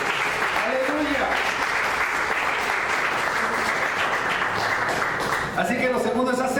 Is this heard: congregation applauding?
yes